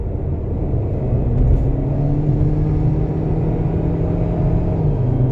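A GAC Emzoom car in sport mode revs and holds a steady, loud exhaust drone with a low rumble, swelling slightly midway, with no voices.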